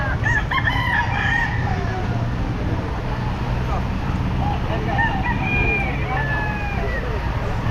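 Roosters at the Bocaue pet market crowing repeatedly, several calls overlapping at varying distances over a steady hum of traffic and people talking nearby.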